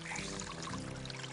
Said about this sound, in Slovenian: Našel si vodo!